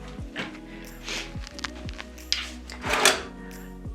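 Hotel room drawers at the Mirage in Las Vegas slide open and shut several times in a row, close and fairly quiet, each with a soft thunk and faint rustle, with no voices.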